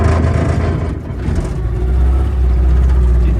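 A boat's outboard motor runs fitted with a new propeller, a loud, close, steady engine drone with a brief dip in the middle before it climbs back up and holds.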